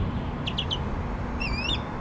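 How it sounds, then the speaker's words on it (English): An osprey calls from a tree beside a lake, a short series of thin, high chirps followed by a rising, whistled phrase, moderately distant over steady outdoor background noise. "You can hear the osprey calling right now."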